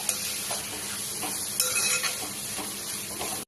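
Continuous loud sizzle of green chilies frying in a pan for chicken biryani, a dense steady crackle with occasional stirring scrapes, close and without any talking.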